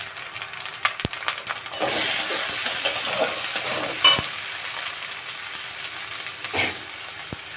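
Fish curry base with tomato, ginger, garlic, turmeric and salt frying in a pan while being stirred, a loud steady sizzle broken by scraping strokes of the spoon and a few sharp clinks, no speech.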